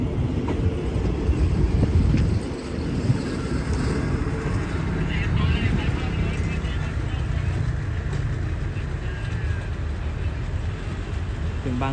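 SRT Thai passenger train passing close by, a steady loud rumble of wheels and carriages running throughout with a brief dip early on, with people talking over it.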